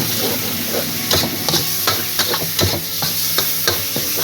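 Minced pork shoulder sizzles loudly with garlic in a wok over high heat, while a spatula scrapes and knocks against the metal in regular strokes, close and busy.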